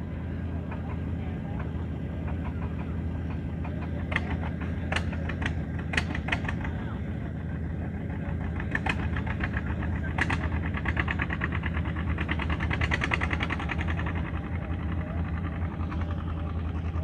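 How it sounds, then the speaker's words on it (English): A John Deere tractor engine chugs steadily at an outdoor antique tractor show in Mechanicsburg, Pennsylvania, a low continuous rumble with scattered sharp clicks and taps over it. "it's a John Deere chugging"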